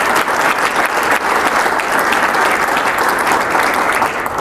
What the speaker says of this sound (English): I think we should give these folks a round of applause